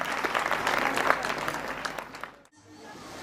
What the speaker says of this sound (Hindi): a big round of applause for these kids जोर से तालियां होनी चाहिए